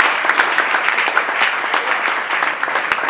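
A church congregation applauding during a praise and worship service, a dense sustained wash of clapping from many hands in a reverberant hall.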